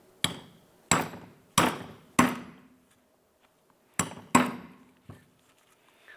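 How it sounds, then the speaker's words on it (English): A hammer taps a stuck rear brake rotor on a 2006-2011 Cadillac DTS, six sharp metallic blows in two close groups with brief ringing decay, then one lighter tap, otherwise quiet. "We're just going to give this a few taps on the top here just to try and break that free."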